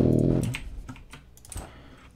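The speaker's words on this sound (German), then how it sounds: "Geklick, klick, klick." Computer keyboard keys clicking in a burst of light, irregular taps, fairly close, after a loud low hum fades at the start; no talk.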